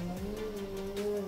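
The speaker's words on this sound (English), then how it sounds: "Sorry about the noise, someone's chainsawing in another garden." Chainsaw running in a neighbouring garden, a faint, distant steady drone with slight pitch wavering, heard from outdoors.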